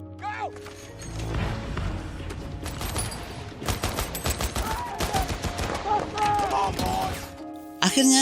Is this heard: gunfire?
yes